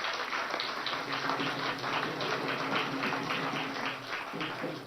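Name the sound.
audience applause welcoming Nitin Gadkari at rally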